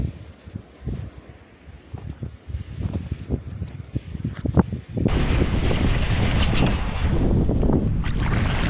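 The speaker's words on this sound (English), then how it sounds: "hopefully the wind dies down" Strong wind gusting across a remote island at a kayak campsite, a steady roaring buffet that blasts against the microphone, building into a louder, sustained rush in the second half with no talking.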